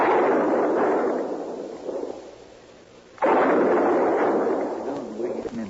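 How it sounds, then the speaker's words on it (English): Gunshots in a radio drama, sounding as loud, rough bursts of blasts that fade between volleys and then resume. "What in the world is he shooting at now?"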